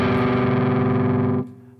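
Distorted electric guitar playing part of a riff, a loud sustained chugging chord that rings, then cuts off abruptly into a faint decaying tail.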